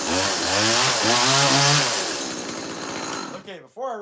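A chainsaw engine started up for chainsaw carving, loud and close, revving through the first two seconds, then settling into a steady idle before it cuts out near the end; a voice is heard briefly over it.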